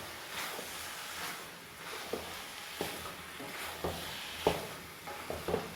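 Carrot halwa mixture being stirred in a pan, a soft continuous scraping and sizzle with a few sharper spoon knocks against the metal, close and steady throughout.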